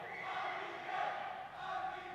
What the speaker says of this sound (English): The chants, the roars of the supporters of Enigma